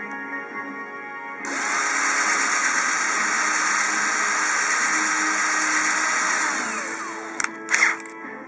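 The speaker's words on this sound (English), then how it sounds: "I drill out the holes and drill out this hole just to make sure that the buttons will not get stuck" A power drill bores holes in a third-party Xbox One controller shell, a loud, steady whine held for about six seconds before it winds down, then a few short clicks and handling knocks.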